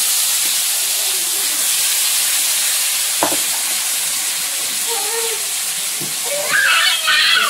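Chopped onion and tomato frying in hot oil with five-spice tempering, a steady broad sizzle throughout with a brief clack near the middle and a louder burst of crackling toward the end, faint voices underneath.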